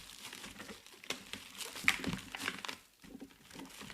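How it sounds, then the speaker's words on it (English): Plastic packaging wrap being torn open by hand, a few seconds of close, quiet crinkling and ripping with short bursts of rustle. "let's go ahead and just tear this open"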